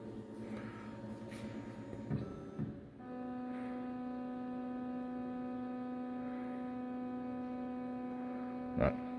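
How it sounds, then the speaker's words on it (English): An ACCTEK AKG1212 small CNC router homes its axes, a steady motor whine with layered tonal hum running continuously, shifting pitch partway through, with a soft click and a brief thump near the end. "Not all that terribly interesting to watch a machine home"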